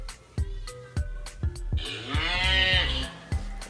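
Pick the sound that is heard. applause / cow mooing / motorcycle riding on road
cow mooing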